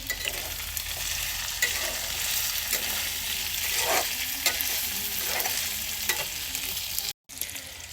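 Liver fries with whole spices in a pan, a loud steady sizzle broken by repeated spatula scrapes and stirs at a close distance, with a momentary gap near the end and no talking.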